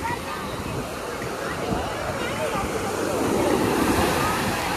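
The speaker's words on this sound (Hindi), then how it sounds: "आप देख सकते हो लहरें थोड़ी बढ़ रही है।" Ocean waves surge and wash onto the Mumbai shore in a continuous, broadband roar that swells louder toward the end, with wind buffeting the microphone.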